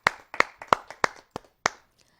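A few scattered, sharp hand claps from a small audience greeting a poet at a Hindi kavi sammelan, about six distinct close claps in an uneven rhythm that then fade into silence.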